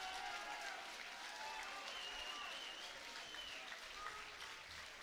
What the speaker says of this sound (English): how about a round of applause for these two great fighters and one hell of a championship fight